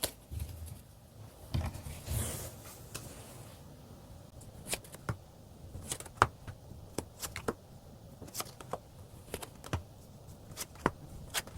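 Tarot cards being shuffled and drawn by hand, a run of soft close papery flicks and sharp little snaps spread unevenly through a quiet room, with no voices.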